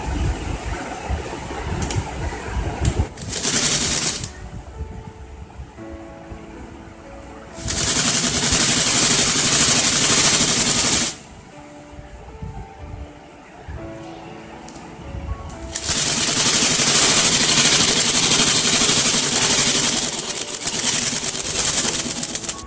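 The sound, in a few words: sewing machine stitching folded back side of baby dress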